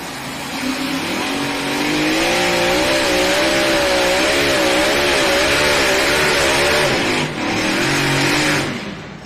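A light modified pulling tractor roars loud and close during a National Tractor Pulling Championships run, its engine held at a sustained wavering high-rev howl for several seconds before easing off.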